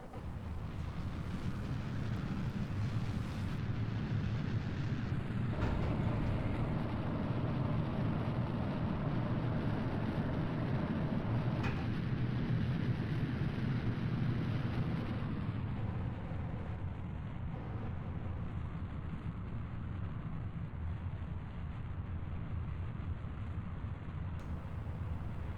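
Rocket engine landing burn in a spaceflight game, a steady deep roar that holds loud and even for the whole stretch, changing tone only slightly partway through, with no voices.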